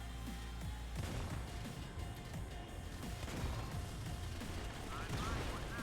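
Grenade explosions and gunfire rage in the mobile shooter Modern Combat 5 on iOS, a dense, loud and continuous barrage of booms and cracks with no letup.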